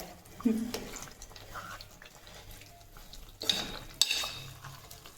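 Fenugreek dough lumps stirred and roasted in ghee in a pan, with soft scraping and sizzling and a few sharper spoon scrapes, under a voice talking.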